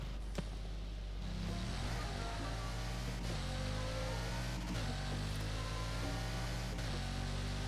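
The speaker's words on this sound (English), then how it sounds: "this has a different engine sound, or at least a higher pitched one" A LEGO Bugatti Chiron in the racing game Forza Horizon 4 revs its engine hard, climbing through the gears with a high-pitched rising whine and brief dips at each shift, loud and continuous under a constant roaring wash.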